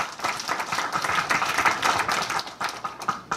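A seated audience at a business management seminar claps in a steady, dense round of applause for a guest chairman about to speak, sustained and fairly loud throughout with no voices over it.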